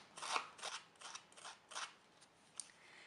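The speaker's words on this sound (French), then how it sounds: "Avec une lame de ciseaux, on frotte, on fait attention de ne pas déchirer le papier." A scissor blade scrapes along the edges of patterned paper in a series of about six short, dry rubbing strokes in an uneven rhythm, close and quiet.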